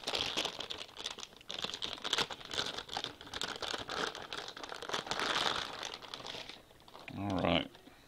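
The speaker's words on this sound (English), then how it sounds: "Inside more cellophane, which I will remove momentarily." Cellophane wrapping is crinkled and peeled off an MSI GTX770 graphics card, giving close, continuous crackling and rustling for several seconds, followed by a brief low thump at the end.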